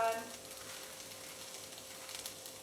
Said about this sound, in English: we're going to add the spices and herbs